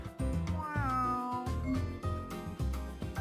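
A kitten meowing in a video game, a run of loud, close, high-pitched meows one after another with a musical score underneath.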